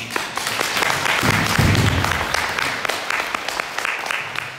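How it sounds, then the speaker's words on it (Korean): An academic conference audience applauds with scattered individual claps forming a modest, moderately loud round that holds steady before tapering off. "다시 한번 박수."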